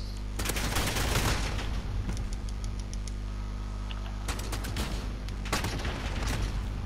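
Rapid bursts of rifle gunfire in an online shooter game, loud and close, firing in clustered volleys separated by brief pauses, with faint ambient game noise underneath.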